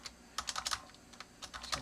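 Fingers tap out a password on a computer keyboard in quick bursts, with clusters of close, crisp keystrokes separated by short pauses. No one speaks.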